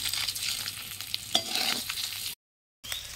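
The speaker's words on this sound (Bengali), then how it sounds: "তো বন্ধুরা ডিমগুলো ভাজা হয়ে গেছে আমার" Duck eggs frying in a pan over a village clay stove, a steady close sizzle with occasional stirring scrapes, no voices, cut briefly by a short silent gap near the end.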